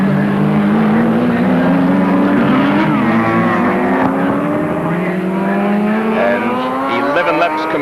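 Race cars lap Symmons Plains circuit in 1983, including a slow Ford Escort 2-litre being lapped; loud continuous engine drone with rising and falling pitches as several cars pass, a commentator talking over it.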